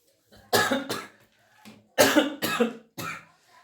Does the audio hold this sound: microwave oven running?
no